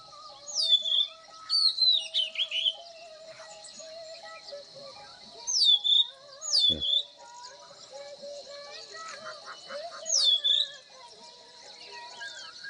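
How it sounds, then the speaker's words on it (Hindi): Bird chirps in a mountain village in Uttarakhand: several bright, sweeping calls come in short bursts with pauses between them, fairly close, over a steady high insect-like hum and a faint background of other birds. "एक आज नई चिड़िया आई है।"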